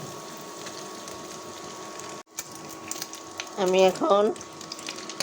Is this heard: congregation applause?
no